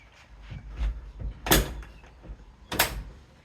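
A car door with misaligned doors and worn rubber seals is shut, giving two solid, close thunks about a second apart over low handling noise.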